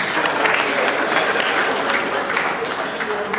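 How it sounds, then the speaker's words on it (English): Applause for the administrative judge of the Eket Judicial Division at a Nigerian Bar Association opening ceremony, a steady wash of clapping from a crowd in a hall that holds evenly throughout without a break. "A round of applause."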